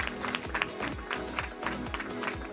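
Audience applause at a film press conference, a steady wash of clapping from a crowd with some voices mixed in underneath.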